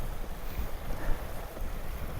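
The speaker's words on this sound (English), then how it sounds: "And it's a bit windy now." Steady wind buffeting across an exposed fell top in the Howgill Fells, a continuous close rumbling roar with gusty swells and no voices.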